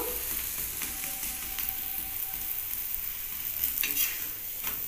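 A vegetable paratha fries in butter in a pan with a steady, close sizzling hiss throughout, dotted with faint crackles and light clicks.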